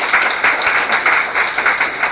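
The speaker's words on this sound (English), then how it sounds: "So please put a round of applause together for yourselves." Steady applause from a crowd at an anniversary event, a dense wash of many hands clapping at moderate loudness with slight surges throughout.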